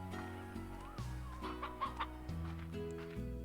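An old-breed hen clucks softly in a series of short, bright calls over a steady low background hum, fairly quiet and close.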